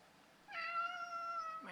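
A house cat gives one long, clear meow, close and loud, with a second cry just beginning at the end, in a quiet room.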